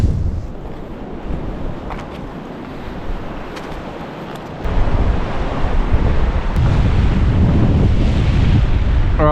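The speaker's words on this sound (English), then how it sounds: "So windy." Strong wind on a remote south coast buffets the microphone in a continuous roaring rumble, growing louder and denser partway through, with surf-like wash underneath and no talking.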